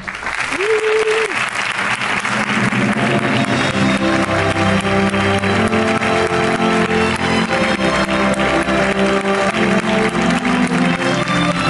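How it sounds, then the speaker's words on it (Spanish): An awards audience at the CEC 2017 ceremony gives Miguel Juan Payán sustained, loud applause, with music playing underneath and brief tonal notes near the start. "quisiera un fuerte aplauso para Miguel Juan Payán"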